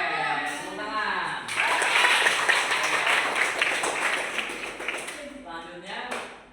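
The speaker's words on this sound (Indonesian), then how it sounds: "Keren, tepuk tangan." A primary school class bursts into applause after someone speaks, many small hands clapping loudly and close for about four seconds before his voice returns.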